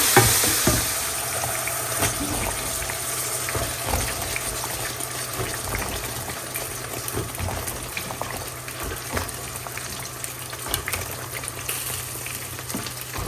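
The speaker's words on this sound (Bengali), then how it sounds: "মাছটাও ভাজি হচ্ছে আর লাউটাও রান্না" Fish fries in a pan on a gas stove with a constant crackling sizzle and bubbling throughout, joined by occasional soft utensil knocks, close and fairly loud with no voices.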